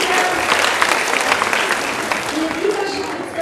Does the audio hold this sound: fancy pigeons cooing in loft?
no